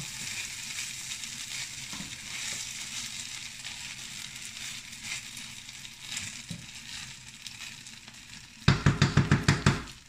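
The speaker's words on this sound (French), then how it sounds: "Remuez le rougail saucisse" A pot of rougail saucisse, a sausage stew, sizzles steadily at close range. Near the end, a burst of rhythmic stirring strokes scrapes and clatters through the pot several times.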